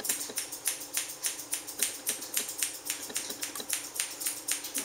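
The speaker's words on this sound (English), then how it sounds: "Put my basic shape wherever the hair got missed by the clipper with my curved shears." Curved grooming shears snip through a dog's hair left by the clipper, giving quick, quiet, crisp metallic snips in a rapid, even rhythm of several cuts per second, close up and continuous.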